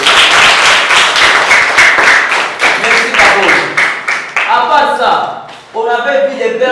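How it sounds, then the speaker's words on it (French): Classroom clapping in a French lesson: a burst of rapid, loud hand claps for a few seconds that thins out and gives way to voices speaking. "Applaudissez pour Cabot."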